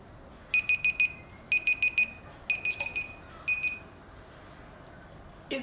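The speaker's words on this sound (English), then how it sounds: "There we go, the timer has gone off." A timer alarm sounds in a quiet room, giving bursts of four rapid high-pitched electronic beeps that repeat several times and then thin out toward the end.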